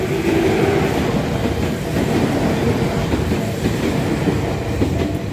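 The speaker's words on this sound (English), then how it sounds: "This is the Tokyo Oimachi line." A Tokyo Oimachi line train passes on a snowy morning, a loud, steady rush of wheels with rhythmic clickety-clack over the rails throughout.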